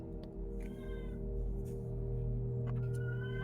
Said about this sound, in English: I can't get over the cat.